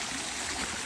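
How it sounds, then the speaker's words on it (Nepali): Water pours steadily from a spring spout, a continuous close splashing rush that fills the short moment with no talk. "यसरी पानी झरेको छ।"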